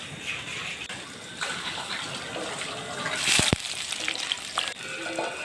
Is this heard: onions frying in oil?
yes